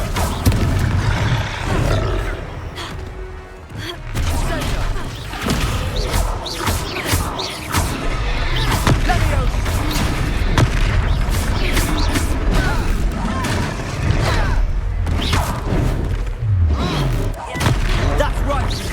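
Blasting-spell explosions and combat clashes in the Hogwarts Legacy video game, loud and dense with repeated bursts and crashes over a roaring creature, with game voices shouting amid the fight.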